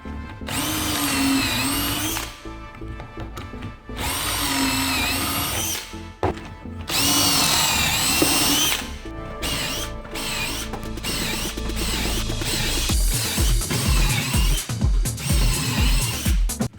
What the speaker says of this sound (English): I'm gonna drill some more holes for pocket screws